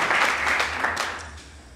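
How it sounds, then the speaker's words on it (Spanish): A church congregation applauds in a brief, loud burst of clapping that thins out as it goes, with no talking over it. "Dale un fuerte aplauso a nuestro Dios"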